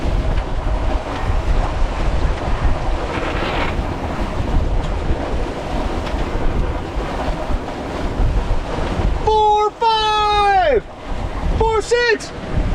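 Sailing a MacGregor 26 in the Florida Keys, a strong gust roars across the microphone over the wash of waves, and a voice rises briefly near the end.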